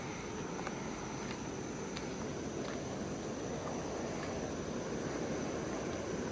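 Water rushes powerfully at Deduruoya Dam in Sri Lanka, a loud, constant broadband roar with wind buffeting the microphone and no speech.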